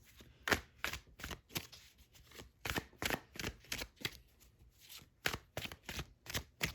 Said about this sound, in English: I'm going to put that back and we're going to shuffle one more time.